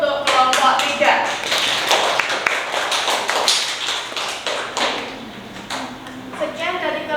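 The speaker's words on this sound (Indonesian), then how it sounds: "beri tepuk tangan dulu untuk kelompok 3" Scattered hand clapping from a classroom audience after a group presentation in a fashion design teaching assessment at Universitas Negeri Malang. The claps are distinct and fairly close, and voices talk over them throughout.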